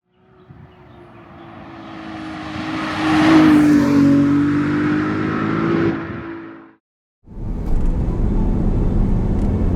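A Ferrari 296 GTS spider, Assetto Fiorano spec, revs up to a loud rising howl with a whine near the peak, then cuts out briefly before a rough engine roar resumes, near and alone.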